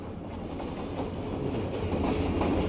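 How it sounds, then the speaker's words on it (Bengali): A train draws near a level crossing with a steady rumbling roar and rhythmic wheel clatter that grows gradually louder and closer, with no talk over it. "দেখতেছে ট্রেনটা কাছাকাছি চলে আসছে"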